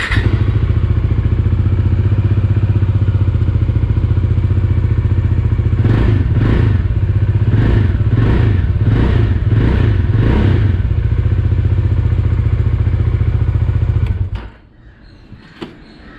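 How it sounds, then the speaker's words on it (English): Bajaj Dominar motorcycle idling after an air filter change, a steady low exhaust thrum with a burst of about six quick throttle blips in the middle, then the engine cuts off and goes quiet near the end. "I'd like you to listen to the exhaust note"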